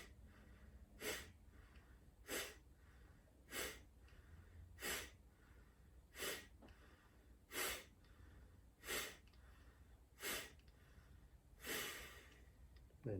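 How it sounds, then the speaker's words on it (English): Ten or so sharp, forceful Kapalabhati exhalations puff through the nose during a pranayama session, evenly spaced about every second and a half, close and distinct against a quiet room with no talk. "So let's work our Bandha, Mahabandha with 10 Kapalabhati breaths first."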